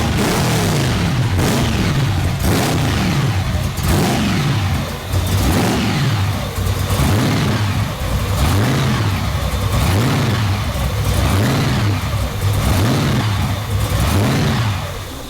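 A 1962 Chevrolet Nova at a cars and coffee gathering starts and revs loudly, its engine rising and falling in repeated throaty blips that dominate the scene, close and continuous.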